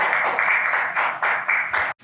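An audience claps together at a church gathering, a steady burst of clapping that swells in rhythmic waves before cutting off abruptly.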